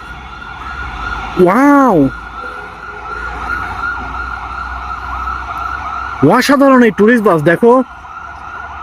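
A toy ambulance siren wails in two bursts of rising and falling tones, one short and one longer with several quick cycles, over steady background noise while a person talks.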